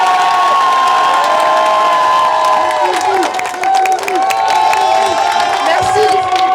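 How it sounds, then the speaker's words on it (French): A big crowd at an election-night gathering in Poitiers erupts in applause, whoops and cheering shouts, with voices calling over sustained clapping that stays loud throughout. "ils méritent un tonnerre d'applaudissements"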